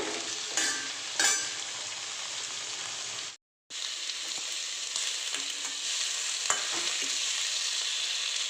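Cumin seeds sizzle in hot oil with a loud, steady crackle. A few sharp pops come early, then a brief dropout, then the frying resumes evenly.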